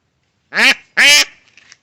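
Two loud, close quacks from native domestic ducks in quick succession, followed by a few faint softer calls.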